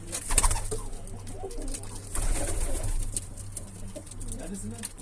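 Pigeons cooing inside a coop where the birds have just begun laying eggs, soft repeated low coos running steadily through the clip with faint background noise and occasional brief sounds.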